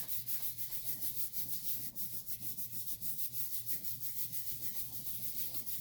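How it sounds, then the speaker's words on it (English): Steady, rhythmic rubbing of paper by hand onto a painted printing plate, a close, continuous scratchy swish repeating quickly without any talk. "rub it just a little bit more to make sure that all that paint that you put on there gets transferred"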